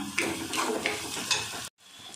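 Onions frying in a pan for egg gravy, a soft steady sizzle with a few spatula stirs and scrapes, close by, ending in a brief cut to quieter sizzling.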